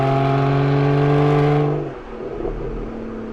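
A 2015 Aston Martin Vanquish revs its engine with a loud, steady tonal howl that then drops away sharply into a lower, rougher idle, close up with no voices.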